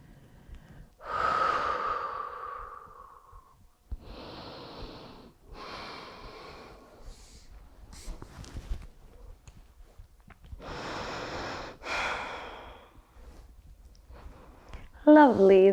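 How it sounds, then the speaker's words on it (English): Deep breaths in and out during a yoga session, several long loud inhales and exhales with pauses between, close and unaccompanied by talk. "Breathe."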